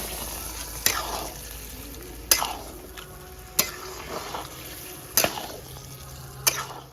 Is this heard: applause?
no